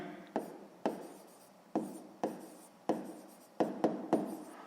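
Chalk or marker strokes on a board in a sixth-grade maths lesson, a series of about nine short, sharp taps and scratches in an uneven rhythm, close and clear with no talk.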